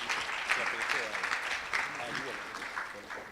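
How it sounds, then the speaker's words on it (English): An audience claps together at a panel discussion, a steady mid-distance wash of hand claps with faint voices mixed in underneath. "Could we clap for them?"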